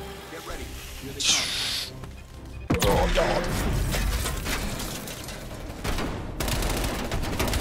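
Sustained blind fire in the Call of Duty Black Ops Cold War campaign, a dense loud fusillade breaking out sharply partway through and roaring on continuously, with an earlier hissing burst and a voice talking underneath.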